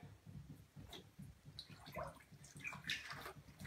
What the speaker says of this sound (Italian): abbiamo comprato questa maglia, eccola qui in mano e ora la laveremo.